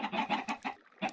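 Chickens in a Minecraft chicken cooker, a video game, give a quick run of short, clipped clucks and squawks, about five or six in a row with a brief gap, close and fairly quiet.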